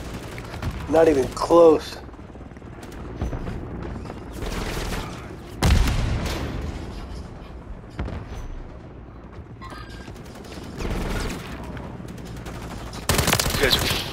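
Bursts of rapid gunfire from a sentry gun in a multiplayer video game rattle in short clusters, mixed with other shots and booms, while players talk over the action.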